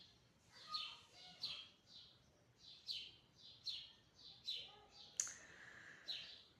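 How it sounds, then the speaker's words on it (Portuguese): Small songbird singing a series of repeated bright chirping phrases at a steady rhythm, fairly faint and somewhat distant, with no talk over it. "Tem um passarinho aqui me alegrando, ó que gracinha"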